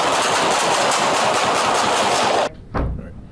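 A sustained burst of dense gunfire from a police shooting in Baltimore, loud and continuous, cuts off abruptly and is followed by a single sharp report.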